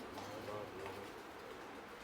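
Pigeons of a pure breed kept by a fancier coo softly and low, with murmuring calls near the start that sit under a steady background of noise and people talking.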